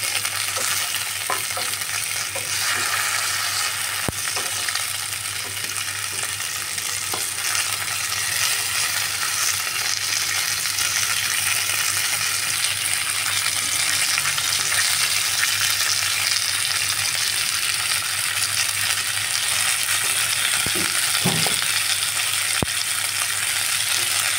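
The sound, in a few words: rohu fish frying in a pan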